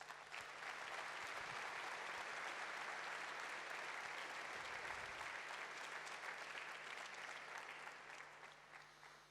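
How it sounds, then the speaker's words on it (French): An audience at a mayor's New Year address to residents in Vichy claps for a long, sustained spell, steady and fairly faint, with a slight fade toward the end. "on peut les applaudir."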